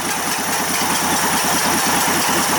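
A pumped engine idles with a steady, low, throbbing chug, loud and close, running evenly with no talk.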